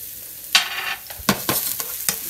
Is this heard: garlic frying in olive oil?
yes